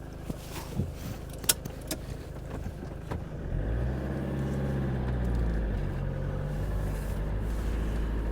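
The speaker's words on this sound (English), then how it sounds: "So let's start her up and go for a little drive." A 2002 Autosleeper Talisman motorhome's 2.8 turbo diesel engine cranks and fires after some clicks and key jingles, then settles into a steady, close, low diesel idle.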